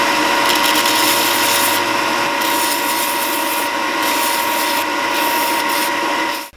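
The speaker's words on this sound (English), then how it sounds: "So I sanded that lead hole down." A wooden fishing lure sanded around its lead hole: a loud, steady, close-up abrasive rubbing that runs without a break, then cuts off at the end, with no voices.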